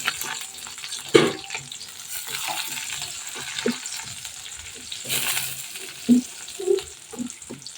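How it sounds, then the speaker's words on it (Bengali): Whole garam masala with a bay leaf, cinnamon pieces and cardamom sizzles steadily in hot oil for a curd rohu fish dish, with a few sharp spoon clinks and taps against the pan. "এখন আমি আস্ত গরম মশলা দিয়ে দিলাম"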